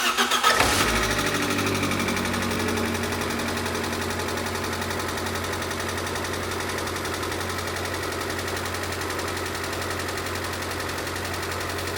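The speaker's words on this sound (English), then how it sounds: "So other than being a bit tappety, which is what I would expect until it warms up, we've got no engine misfire because it's not rocking" An Abarth car engine cranks and fires, then settles into a steady, loud idle with a slightly tappety mechanical ticking from a cold engine, running alone for several seconds.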